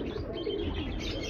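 Breeding pigeons in a loft give a brief soft cooing, a low murmuring call over faint background noise.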